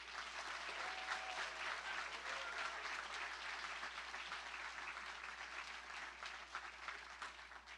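Another round of applause at a university awards ceremony honouring nominees for excellence, a sustained wash of clapping from a large audience, fairly distant and soft with a low hum underneath, holding evenly for nearly eight seconds.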